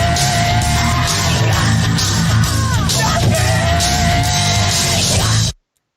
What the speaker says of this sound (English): I added the 2 screams from today into the nothing jingle.